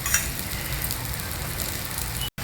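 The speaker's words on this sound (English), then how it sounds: "Pour some oil or ghee all around the dosa." Dosa batter sizzling on a hot tawa over medium flame as oil or ghee is poured around it, a steady close crackling hiss with no talk.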